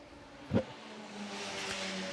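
Race cars in qualifying traffic sweep through turns 9 and 10 at Laguna Seca, a brief loud engine burst from one passing car followed by a steadier distant drone of others.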